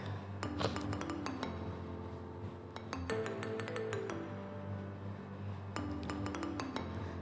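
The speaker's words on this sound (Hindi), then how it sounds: "अब हम इन सब चीज़ों को अच्छे से मिक्स कर लेंगे" A spoon clinks repeatedly against a glass bowl while mayonnaise, cream and white pepper are mixed for a sandwich spread. The bright taps come in quick irregular bursts, close and fairly loud, with short pauses between them.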